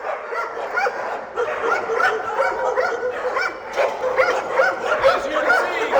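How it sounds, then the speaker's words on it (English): Several dogs at a dog daycare barking, yipping and whimpering together, a busy overlapping chorus close by with a voice faintly underneath. "It's going to get a little noisy here because everyone's giving us a puppy welcome here in a second"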